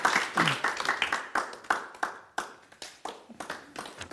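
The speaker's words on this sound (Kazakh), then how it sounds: "Шапалақ, қошеметлер." Close, brisk clapping from a small group of people, an uneven run of sharp hand claps that carries on steadily throughout.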